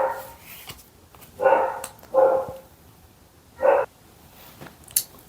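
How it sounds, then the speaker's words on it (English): Dogs barking at nothing in the distance, three or four sharp separate barks with quiet gaps between, moderately near and heard alone. "The dogs were going off even though there was nobody over there."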